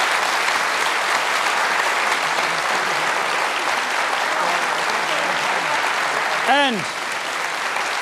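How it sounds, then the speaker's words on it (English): Sustained applause from a large audience at a Q&A panel discussion carries steadily through the whole stretch, with a voice briefly speaking near the end. "Please give them a round of applause."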